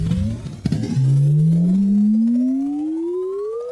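A stretched kick drum layer for an EDM track stays loud and alone. A low pitched tone glides slowly upward like a siren after a brief punchy hit at the start.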